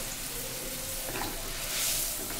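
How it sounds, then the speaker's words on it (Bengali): Water poured into a hot pan of curry with hilsa fish and taro stolons, a loud bright sizzling hiss that swells briefly near the end, steady and close with no talk. "এবার সেই হালকা আমি জল ছেড়ে দিলাম, পরিমাণ মতো"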